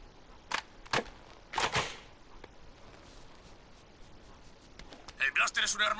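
A blaster weapon fires in the Jak II action game: several sharp snapping shots, a few spaced apart early on, then a quicker cluster at the end, with a crackle of other game sounds.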